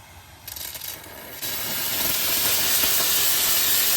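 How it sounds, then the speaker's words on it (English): A Limatic UVC Carbon dry steam vacuum machine releasing its steam jet, a loud, close hiss that starts in short bursts and then builds into a continuous rush. "there's the steam."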